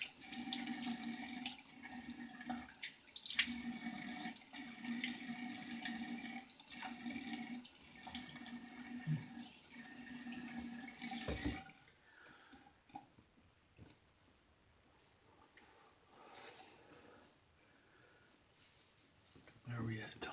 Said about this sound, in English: let's get this razor rinsed off, cleaned up